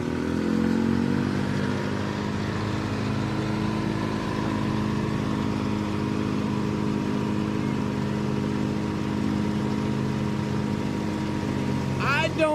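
A 2005 or 2006 Duramax diesel pickup rumbles loudly at a truck and tractor pull, holding a steady, gravelly engine drone, while an announcer talks over it throughout.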